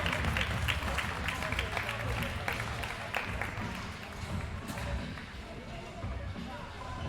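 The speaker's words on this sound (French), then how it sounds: "Applaudissements pour Noé Bessot." Audience applause for a rider at an amateur freestyle riding final, a dense wash of clapping and crowd noise that stays strong before easing slightly, with an announcer talking over it.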